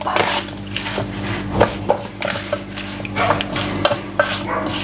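Garlic being stirred into food by hand in a kitchen, with soft squelching and scraping strokes, occasional light knocks against a bowl and a low steady hum in the background.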